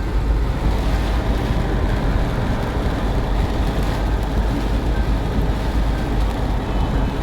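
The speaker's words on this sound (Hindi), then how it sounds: "अभी चल रही है बारिश" Heavy rain pours down in Multan during a storm, a dense, steady roar of falling water with a low rumbling wash underneath, continuous and loud with no voices.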